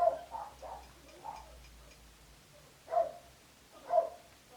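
Several dogs bark at a distance in short, scattered bursts, first in a quick cluster, then two isolated barks after a pause, over a quiet background with no talking.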